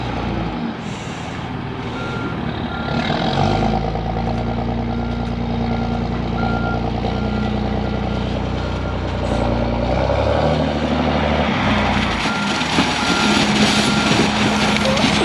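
A truck hauling stumps, mud and brush rumbles loudly nearby while repeated reversing beeps sound over its heavy engine, with air brake hisses and a voice speaking in the background.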